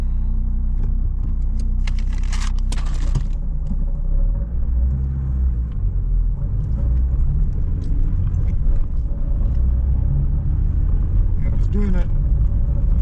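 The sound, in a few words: Vauxhall Corsa B 1.4Si rattling while driving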